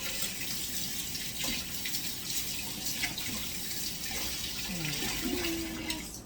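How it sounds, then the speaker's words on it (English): Hands being scrubbed under a running kitchen tap while cooking stuffed jalapeño chicken breasts, a steady close rush of water into the sink with faint splashing and no talking. "Wash my hands real good."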